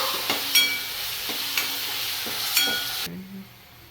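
Boiled peas with green masala are stirred in a pan for samosa filling, with a soft sizzle under several sharp scraping stirs at a regular pace before the sound suddenly drops away near the end.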